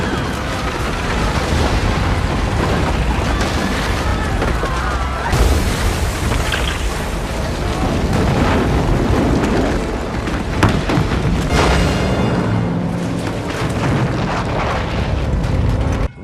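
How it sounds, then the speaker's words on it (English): Film bomb blasts bring buildings collapsing in a dense, sustained wall of booming explosions, crashing debris and rumbling, loud and chaotic throughout with sharp bursts punctuating the roar. "The buildings are falling! There must be more than one bomb."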